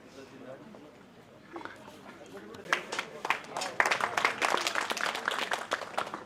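An audience applauds to welcome a guest at a Prajapati community award ceremony in Bidasar. The clapping starts thin and builds into a dense round of crowd applause, with a voice over a PA system at the start.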